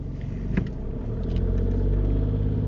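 Car engine idling steadily during a driving test, a low continuous rumble close by with a brief knock near the start.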